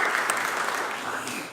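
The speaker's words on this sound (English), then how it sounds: "Give Julie a round of applause for just stepping up." Audience applause for Julie Wertheimer at a bail reform announcement with Councilman Johnson and Mayor Kenney, a brief, steady burst of clapping that fades slightly toward the end.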